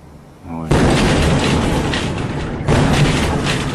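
Shock wave from a supersonic meteor over Russia: a sudden loud boom bursts in after quiet, followed by a long rumbling roar with a second surge, recorded outdoors with people talking.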